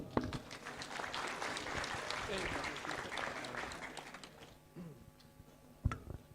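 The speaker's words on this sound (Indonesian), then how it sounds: "Oke, sekali lagi tepuk tangan untuk Mahmud dari Ambarawa." A live audience at a campus event claps for a comedian: dense, steady applause for about five seconds that thins out, then a few scattered claps near the end.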